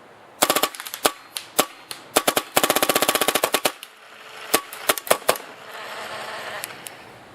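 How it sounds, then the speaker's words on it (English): An AGD Automag RT paintball marker with a Level 10 bolt fires loud, close, rapid volleys of sharp pops, some shots strung into quick bursts and others coming singly, with a hiss of air between strings. "all that chuffing you heard was the level 10 bolt doing its job"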